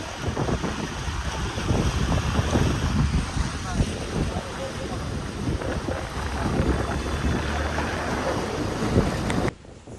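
Strong sea wind at a seafront promenade buffets the microphone in loud, rumbling gusts, with a faint voice and crowd noise beneath, cutting off abruptly near the end.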